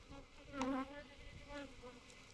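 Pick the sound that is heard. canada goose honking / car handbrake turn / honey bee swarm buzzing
honey bee swarm buzzing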